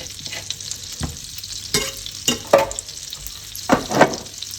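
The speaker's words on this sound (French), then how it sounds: "On va y ajouter 2 morceaux de beurre." Butter pieces melting in a pan over medium heat give soft, intermittent sizzling with several louder stirring scrapes and bursts, close by and without speech.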